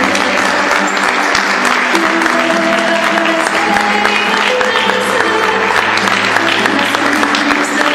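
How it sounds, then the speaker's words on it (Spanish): Applause at an official ceremony unveiling a new town flag, with sustained, loud clapping from a large crowd and scattered voices and whistles mixed into it. "sostengamos el aplauso para la bandera oficial de tránsito y sus comunidades"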